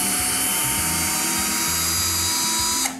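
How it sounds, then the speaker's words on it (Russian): Cordless screwdriver whirring steadily as it backs screws out of a shipping crate lid holding a smart mirror, a loud continuous motor whine with small pitch shifts, cutting off at the end. "шуруповерт, если у вас его нет, то значит по классике отверточкой все делайте"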